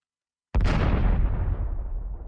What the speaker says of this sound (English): We just dropped a physics entity bomb.